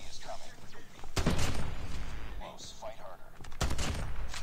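Sniper rifle fire in the Call of Duty Mobile shooter game: two sharp, loud cracks about two seconds apart, ringing over busy in-game noise with voices faintly underneath.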